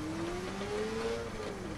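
Car driving in the video game Watch Dogs: a steady engine drone with a slowly rising and falling tone, continuous and fairly close, with no talk.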